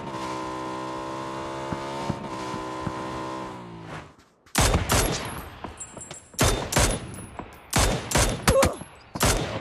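Sharp gunshots and short bursts in a PUBG esports playoff match, loud and close, after a sustained droning tone cuts out.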